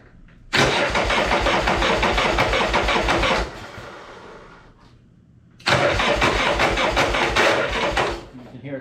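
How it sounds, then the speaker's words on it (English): A 1981 Harley-Davidson Shovelhead's starter with a slipping Bendix cranks loudly in two long bursts, a rapid churning whir that cuts out and leaves a quieter gap before cranking again, close by. "You can hear it slipping. It's probably the Bendix."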